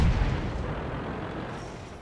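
A tank gun fires in a video game: a single heavy cannon-like boom hits at the start, then a low rumbling tail fades out over the next two seconds.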